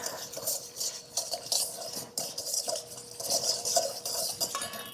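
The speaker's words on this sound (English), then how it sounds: "Then I'm just going to mix this around." Vinegar and brown sugar are stirred together in a bowl for a barbecue sauce, with a spoon scraping and clinking against the sides in a busy, repeated rhythm close by.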